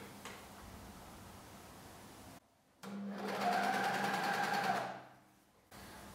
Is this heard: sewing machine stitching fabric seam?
yes